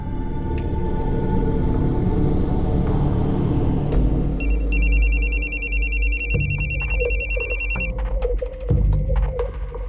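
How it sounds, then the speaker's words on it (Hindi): An electronic telephone ringtone trills in repeated bursts over a low engine-like rumble and background noise, with no one answering. "कोमल भी फोन नहीं उठा रही"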